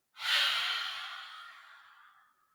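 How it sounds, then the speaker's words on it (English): A single long, breathy exhale during a yoga session, close to the microphone, swelling quickly and fading gradually over about two seconds. "Inhale up, exhale out."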